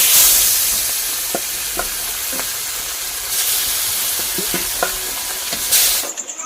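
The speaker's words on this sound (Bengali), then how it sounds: "মাছগুলো ভাজা হয়ে গেছে, লাস্টে 3টে বাকি আছে" Fish pieces frying in oil in a pan, a loud, continuous sizzle with scattered spits and stirring clicks, ending in a short burst of hiss.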